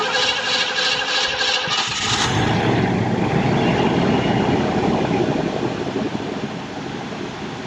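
Cadillac Brougham engine, revived after sitting ten years, starting and idling with its belts newly installed: a starter whir for about two seconds, then a loud steady idle with a high whine from the belts and pulleys, close by.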